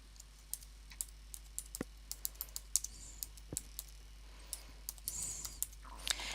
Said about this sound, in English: So I can just type in the text that I require.